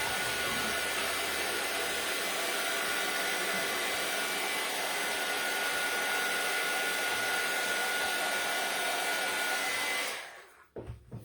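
A hair dryer blows steadily and close for about ten seconds, drying a painted spring decor piece, then cuts off abruptly into near silence with a few small handling noises.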